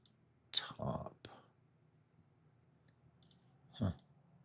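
A few sharp computer mouse clicks on a Mac while browsing drives in the Commander One file manager, sounding as isolated close taps spread over several seconds with quiet between them.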